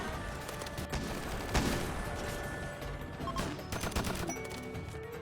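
Sniper gunfire in the game Rimworld, as shooters cut down fleeing tribals: a quiet, steady crackle of distant shots with a few sharper reports standing out over a dense background wash.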